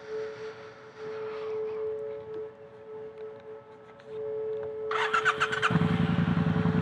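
A Triumph Bonneville Bobber motorcycle engine cranks and fires up after a faint hum and steady tone, settling into a loud, close, rapid idle rumble.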